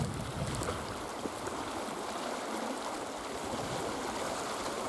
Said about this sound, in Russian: я подойду и покажу, какой поток воды